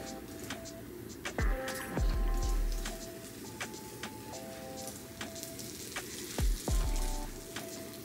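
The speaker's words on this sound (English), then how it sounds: "You hear the sizzling." Soft sizzling crackle of butter brushed onto biscuit tops in a hot pan, with scattered pops and a few clinks and knocks of utensils, fairly quiet throughout.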